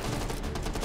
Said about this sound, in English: Ah, flashbang.